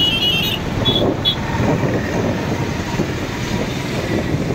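A train rolls past near the railway station by Chandipur Beach in Baleshwar, a loud, sustained rumble and clatter with a couple of brief high squeals early on.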